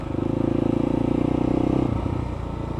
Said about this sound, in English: just burning in the new exhaust more than anything else